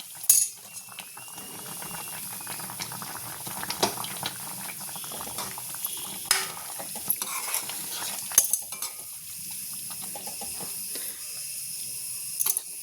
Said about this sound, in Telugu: కర్రీ అయితే బాగా గమగమం అంటా ఉందండి బాగా ఉడుకుతా ఉంది కదా